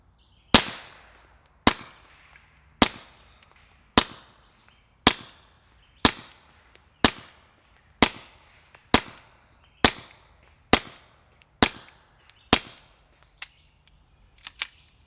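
Thirteen unsuppressed .22 pistol shots with CCI standard ammunition pop sharply and evenly about a second apart, each crisp crack followed by a short echo, with quiet handling clicks between them.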